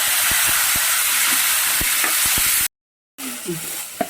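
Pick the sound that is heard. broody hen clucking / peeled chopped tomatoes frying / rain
peeled chopped tomatoes frying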